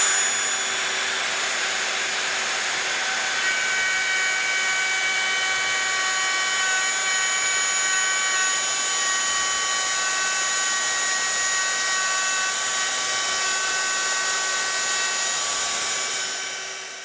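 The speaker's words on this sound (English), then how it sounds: "Then we'll start the router, plunge into our guide strips," A plunge router cuts dadoes along guide strips in a jig, giving a loud, steady high-pitched whine with a constant tone that runs unbroken from start to finish, then tapers off at the end.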